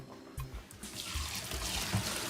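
Hot water from boiled saltfish drains through a strainer into a sink, a soft splashing pour and trickle at low volume over a couple of seconds, with faint clatter at the start.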